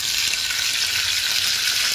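Chunky capsicum and onion pieces fry over high flame in hot ghee with kasuri methi, giving a loud, steady, close sizzle that holds constant throughout with no pauses and no voices.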